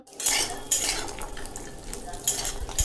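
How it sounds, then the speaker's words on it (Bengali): Cashews frying in a pan at home, heard mostly as bright clinks and scrapes of a utensil against the pan over a low background sizzle, with several sharp metallic knocks across the short stretch and no talking. "কাজুগুলো ভাজছিলাম আমি"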